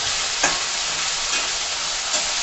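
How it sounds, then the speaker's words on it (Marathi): Diced potato with chopped green chillies fries in hot oil over a low flame, a steady close sizzle with a few brief stirring scrapes and no voices. "बटाटा तेलामध्ये परतून घ्या।"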